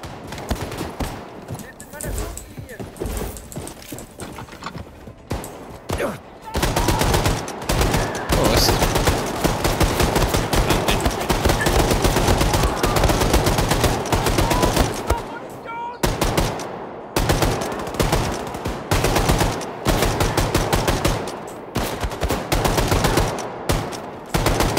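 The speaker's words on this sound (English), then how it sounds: "It's a mounted gun." Sustained bursts of mounted machine gun fire in Wolfenstein II, loud and dense with brief pauses between volleys and a dull rumble underneath, running nearly nonstop through the stretch.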